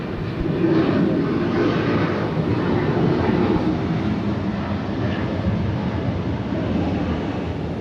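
A jet airliner on the Atlanta airport runway 26 left builds a steady, loud broadband engine roar that holds throughout, close and unbroken with no voices.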